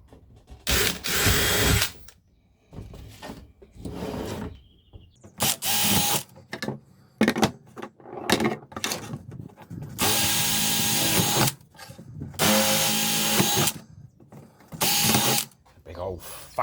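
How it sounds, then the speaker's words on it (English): A power drill with a large bit, cutting holes of about 52 mm (2 inches), whirs in repeated loud bursts, some short and some held for a couple of seconds, with quiet gaps and clattering handling noises between them. "Big old fat drill for these."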